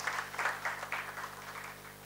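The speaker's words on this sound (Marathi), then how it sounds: "जोरदार टाळ्या वाजवून आपण त्यांचं स्वागत करूया" Audience applause welcoming the chief speaker, Dr. Shyam Atre, at a literary meet-the-author event: a steady, dense patter of many hands clapping at moderate distance, rising and falling in bursts for about two seconds with no talk.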